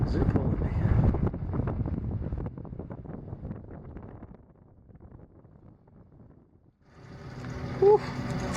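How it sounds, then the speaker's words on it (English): Strong wind buffets a sailboat out on the Atlantic, a loud rushing roar with heavy microphone buffeting that eases into a quieter lull before gusting back up near the end. "I hope this wind dies down"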